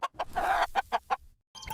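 A hen clucks close by in a quick run of about six short, separate clucks, then goes briefly quiet before one more starts, with no talking.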